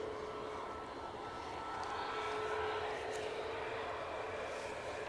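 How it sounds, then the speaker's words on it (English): A Ryanair airliner arriving from Malaga on approach to land at Edinburgh Airport, its engines a steady, fairly distant roar held at an even level throughout, with a faint whine over a broad rumble. "So next in is Ryanair from Malaga."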